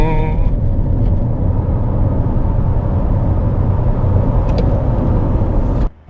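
A Toyota bZ4X electric car accelerating from 0 to 100 with regenerative braking off, heard from inside as a steady loud road and motor rumble that holds for about six seconds before cutting off abruptly.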